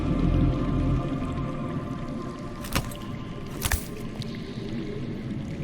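Underground water in the video game Telltale Game of Thrones: a low, murky rumble of flowing water beneath the ground with a few isolated drips and splashes, fairly quiet and without talk.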